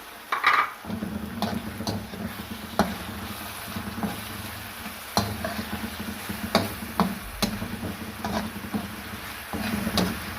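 Quiet sizzling of garlic, ginger and green chili paste frying in a pan with occasional scrapes and clinks of a spoon stirring, close by and fairly soft, with no talking.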